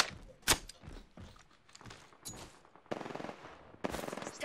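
Bursts of gunfire in a video game, scattered loud shots and quick rattling volleys among softer thumps and movement, fairly close and without talk.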